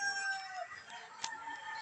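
Chickens and a rooster are heard faintly outdoors among trees, with soft clucks and a brief distant crow over quiet ambient noise.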